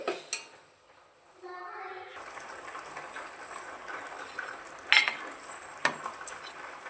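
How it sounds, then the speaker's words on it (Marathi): A spoon scrapes and clinks against a pan while kalakand sweet is stirred after sugar is added, with soft intermittent metallic taps and scraping at close range. "आता मिक्स करून घेते."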